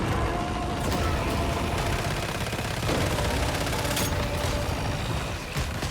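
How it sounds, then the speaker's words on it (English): Continuous weapon fire in the survival shooter Once Human, a dense, steady rattle of rapid shots running unbroken throughout with mechanical clatter, close and even in level. "And then we just fire."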